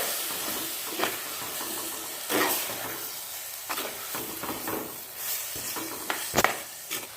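Ground masala for a dry fish curry fries and sizzles in a pan, a close, continuous hiss broken by repeated bursts of louder spattering as it is stirred, with no voices.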